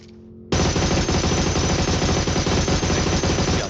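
Rapid automatic gunfire in a battle royale video game bursts in after a brief quieter moment, then continues as a dense, loud, unbroken spray of shots.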